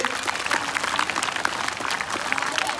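An audience applauds for a child at a motivational talk, a dense, continuous burst of clapping throughout.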